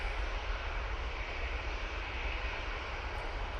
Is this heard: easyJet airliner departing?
yes